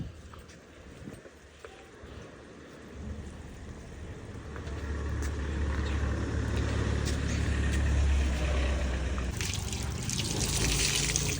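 Water pours steadily for several seconds, a continuous rushing trickle that grows fuller partway through, with little talk.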